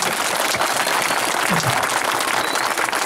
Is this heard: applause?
yes